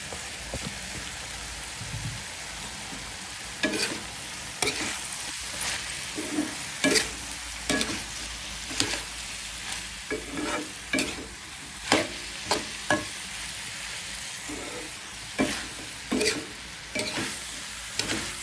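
Papaya stir-fries in a pan, a constant hissing sizzle punctuated by repeated sharp scrapes of the spatula at a loose, irregular rhythm, close and moderately loud.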